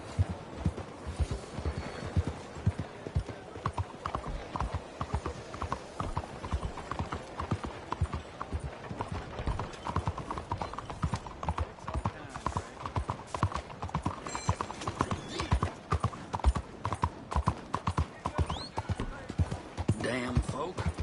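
Steady clip-clopping of horse hooves from a PS4 video game runs the whole time, a dense, even rhythm under continuous game noise, with voices talking now and then.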